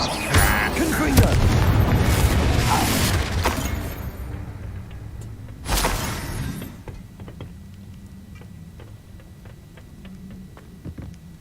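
A Confringo fire-blast spell in the Hogwarts Legacy video game goes off with a loud booming explosion, followed by a second blast a few seconds later, then quieter crackling game ambience; a voice speaks briefly.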